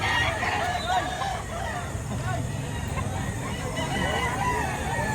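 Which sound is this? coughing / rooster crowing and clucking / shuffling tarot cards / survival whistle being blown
rooster crowing and clucking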